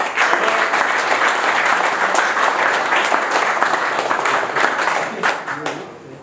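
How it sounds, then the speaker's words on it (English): An audience at a pole fishing prize-giving claps, producing a loud, sustained wave of applause that carries on steadily and eases off slightly toward the end. "Big round of applause"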